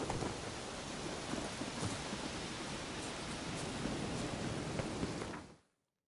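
Heavy rain in The Witcher 3 Wild Hunt, a dense, loud, steady hiss of downpour with a few faint thunder-like swells, running unbroken before cutting off abruptly near the end.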